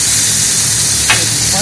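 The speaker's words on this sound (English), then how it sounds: "Now, just added mushroom, peppers and onion, a little bit of garlic salt." Mushroom, peppers, onion and chicken with garlic salt stir-fry in a pan, giving a steady close sizzle with a brief sharper hiss near the end.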